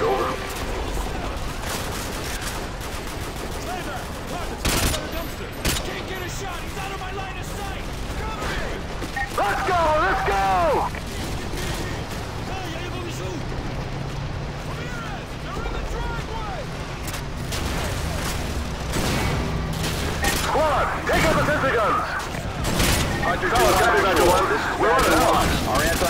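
Dense, continuous gunfire and explosions from a Call of Duty: Modern Warfare 2 battle, with rapid automatic bursts, booming RPG blasts and fusillades running throughout at steady loud volume, with radio voices occasionally mixed in.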